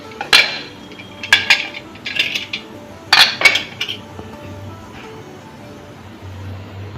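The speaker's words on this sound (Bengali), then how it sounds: "এবার আমি প্রেশার কুকারটা খুলছি" Pressure cooker lid being opened in a home kitchen while cooking a Bengali mutton curry: a series of loud metallic clanks and clinks in clustered bursts, close up, with quiet gaps between them and no talking.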